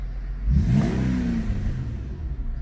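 Infiniti/Nissan engine with VVEL, freshly valve-adjusted, starts with a short rev then settles into a quiet, even idle close by, with no voices.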